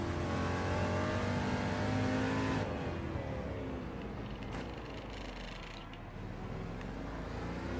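The Ferrari 330 P4 race car engine in Gran Turismo 7 roars loudly through high revs, drops briefly as power comes off, then climbs again in a steady sustained drone with no voices.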